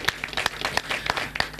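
Scattered clapping from a small audience at an Indonesian community discussion event on tolerance, a handful of sharp claps in an uneven rhythm over a brief moment, fairly quiet and without voices.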